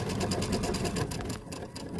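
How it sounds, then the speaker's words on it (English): A sewing machine stitches quilt fabric pieces together, a close, rapid and steady mechanical chatter that slows slightly near the end. "And we're going to sew to that one."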